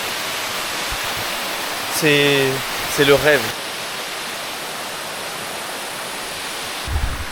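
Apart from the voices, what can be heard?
waterfall in Colombia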